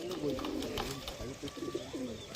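Pigeons coo softly at a home loft, low murmuring calls running throughout under steady background noise.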